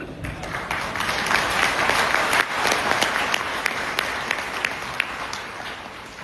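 An audience at an 8th anniversary celebration in India breaks into applause, a loud, dense burst of many hands clapping that stays full for several seconds before tapering slightly.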